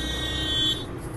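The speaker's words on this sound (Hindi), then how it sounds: "लोग मुझे हॉर्न दे रहे हैं क्योंकि उनको लेफ्ट जाना है ना गाड़ी." A car horn blares in city traffic behind a first-time driver waiting to turn left, one sustained buzzing honk lasting under a second, loud and near, then the road noise fades.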